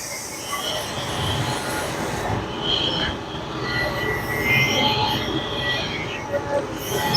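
A NOVA pressure washer runs and sprays water, giving a steady, close, hissing rush with a whining, squealing tone that rises and dips as the flow changes.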